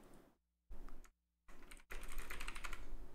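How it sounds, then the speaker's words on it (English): Close, rapid clatter of typing on a computer keyboard, keys tapped in quick bursts separated by short silences, then a denser continuous stretch of keystrokes. "That's me typing on Discord."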